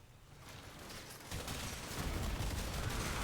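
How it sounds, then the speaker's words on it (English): A weapon beam fires in the Warframe video game as a steady, hissing, crackling noise that swells louder partway through and keeps going without a break, fairly faint overall. "So we're just gonna hit this guy with the cancer beam"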